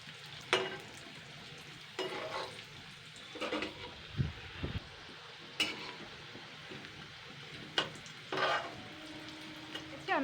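Fish roe fritters fry in hot oil, cooked three at a time and flipped in the pan, giving a quiet sizzle broken by sharp clatters and scrapes of a utensil against the pan, heard up close with no talking.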